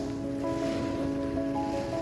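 Calm sea at sunrise from a fishing outing: a soft, steady wash of gentle waves with a faint constant tonal hum underneath. The sound is low and even, with no voices.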